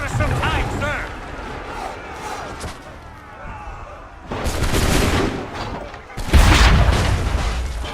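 Heavy gunfire and booming blasts in the Assassin's Creed III video game, with two loud broadband bursts in the second half over steady game noise and voices talking throughout.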